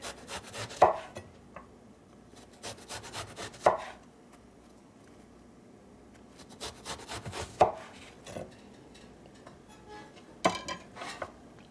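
A knife chops through eggplant into thin slices on a board, giving sharp, close taps in quick bursts with short pauses between them and a few soft clatters of kitchen utensils; no talking.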